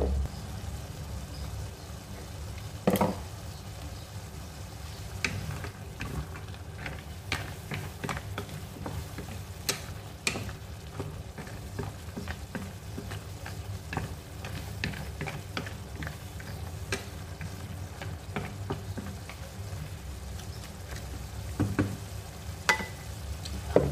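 Cooked cashew nuts boiling and sizzling in a cooking pan, a low, steady bubbling fry with scattered ticks and stirring knocks that runs on without pause.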